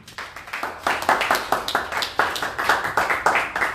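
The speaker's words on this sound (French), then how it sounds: "Acclame Jésus." A church audience at an evening sermon claps in acclaim to Jesus, giving loud, fast, regular rhythmic clapping close by throughout.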